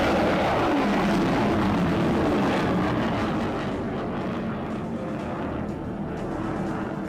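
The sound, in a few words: USS Cowpens cruiser launching a Standard missile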